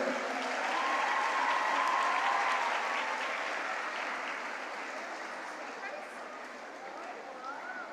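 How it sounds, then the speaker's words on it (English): An audience at a school award ceremony gives a sustained round of applause that stays full for several seconds and then slowly thins, with no talking over it. "Can we have a round of applause for Joel?"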